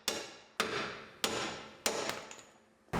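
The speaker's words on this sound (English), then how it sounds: "Hammer the ball joint out" Four sharp metal hammer strikes on a Yukon's ball joint, roughly evenly spaced, each loud and close with a ringing decay, the last one cut off at the end.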